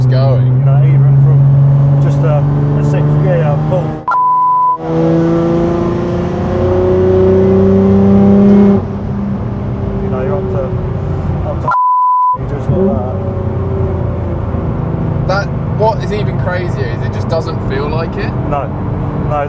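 A 1000-horsepower Nissan R35 GTR pulls hard in sixth gear, its engine note rising steadily as it accelerates, loud and close inside the cabin, with brief beeps and people talking over it.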